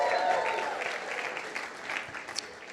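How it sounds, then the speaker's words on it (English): An audience claps together at a large public event, a dense burst of applause that gradually thins and fades over a few seconds. "Another applause for that"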